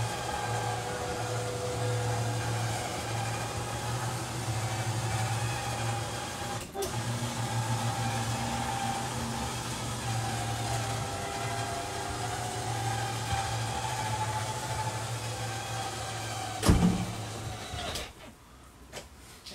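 Electric front bunk lowering in a 2020 Coachmen Mirada 29FW Class A gas motorhome: a steady, close motor hum and whine runs for most of the stretch, then cuts off with a clunk near the end.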